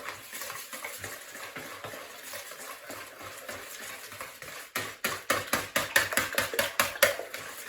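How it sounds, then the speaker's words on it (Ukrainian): A spoon stirs a batter for thin crepes filled with cottage cheese, scraping lumps out in steady repeated strokes that grow louder and more rhythmic toward the end, with no one talking. "Розмішуємо ретельно, щоб не було комочки."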